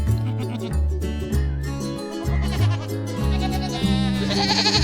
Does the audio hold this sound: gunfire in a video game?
no